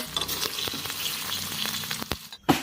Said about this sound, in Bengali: এবার আমি মাছ ভেজে নেব।